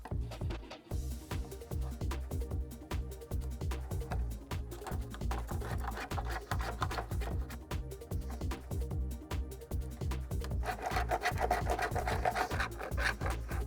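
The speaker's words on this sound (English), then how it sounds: "using a flathead screwdriver to scrape all around the channel" A flathead screwdriver scrapes old glue out of a channel on a Volvo, a steady run of quick, rhythmic rasping strokes that continues close and fairly loud for the whole stretch, with no talking.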